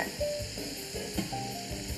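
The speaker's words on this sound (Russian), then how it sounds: "мы жарим печень куриную на масле из виноградной косточки" Steady sizzling of chicken liver frying in grapeseed oil, close up, with occasional soft stirring clinks and scrapes.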